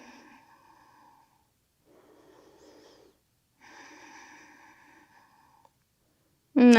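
Slow, deep breaths during an intermediate vinyasa yoga class: two soft, airy inhale-exhale cycles with quiet pauses between them, then a sudden loud, sharp sound at the very end.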